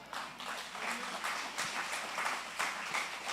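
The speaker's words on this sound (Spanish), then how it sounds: "¿Cómo no darle un aplauso ahora a Cristo Jesús?" A church congregation applauds steadily for a few seconds during a sermon, a dense wash of clapping at moderate volume.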